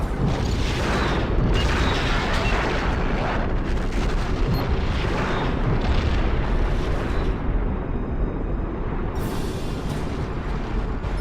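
A Romulan vessel exploding in the Star Trek Legacy space combat game, a loud sustained roaring blast with rumbling bursts that carries on for several seconds before easing slightly.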